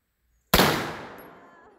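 A single loud, close gunshot from a .450 Bushmaster AR-15 rifle cracks out sharply after half a second of silence, then rings and decays slowly over more than a second.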